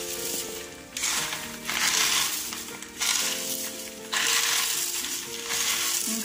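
Crisp fried snack mixture ingredients for Kerala-style mixture tossed and stirred together by hand in a bowl, giving rustling, crunchy bursts in several waves, close and fairly quiet, with no talking.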